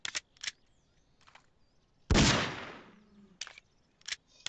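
Gunfire in the Garry's Mod video game: a loud burst of shots near the middle with a long decaying roar, surrounded by quieter, sharp intermittent game sounds.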